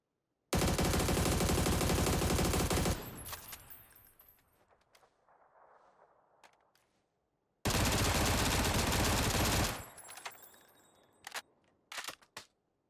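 FAMAS rifle with no attachments fires in PUBG, two long loud sustained bursts of rapid automatic gunfire separated by a quiet gap, each trailing into echoing tails and a few scattered shots.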